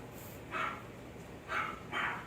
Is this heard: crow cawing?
no